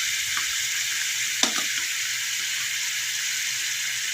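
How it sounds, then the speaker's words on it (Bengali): Masala paste of ground onion, garlic, ginger, tomato, Kashmiri chilli and raisin with meat masala sautés in oil for a fish dum pokto, giving a loud, steady sizzling hiss and one brief stirring knock near the start. "মশলাটার মধ্যে পেঁয়াজ বাটা, রসুন বাটা, আদা বাটা, টমেটো বাটা, কাশ্মীরি লঙ্কা, তারপরে কিশমিশ বাটা, আর দিয়েছি মিট মশলা দিয়ে মশলাটা কষিয়ে নিচ্ছি"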